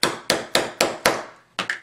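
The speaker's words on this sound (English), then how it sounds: "Here's my hole punch and my hammer" Hammer striking a metal hole punch six times in steady sharp raps, each crisp and close, with a brief pause before the last strike.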